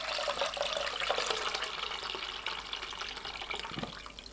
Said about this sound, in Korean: 장아찌물을 따라냅니다.